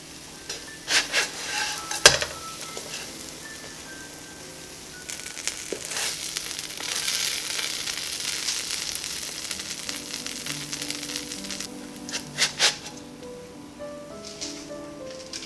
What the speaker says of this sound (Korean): 아까와 같은 방법으로 살살 토스트 해주면 되겠어요